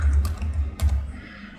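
Fingers type on a computer keyboard, close and clear, in a few quick bursts of clicking keystrokes with brief pauses, alone with no talk.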